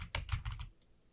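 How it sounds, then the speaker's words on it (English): Keys clatter on a computer keyboard in a quick burst of about five taps, close and fairly faint, then fall quiet with no speech. "And then we're going to type server."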